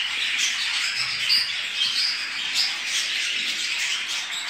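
Japanese budgerigars in a breeding cage chirp and twitter continuously, a dense, bright chatter of overlapping calls at close range with no voices.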